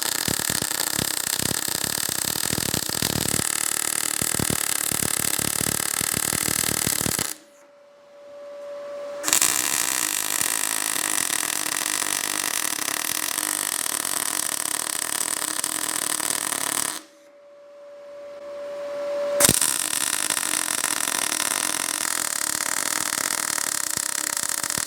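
Rtech MIG180 MIG welder laying a weld with the wire feed turned up slightly, a steady loud crackling sizzle like frying bacon in long bursts, stopping twice for about two seconds with a faint hum between runs.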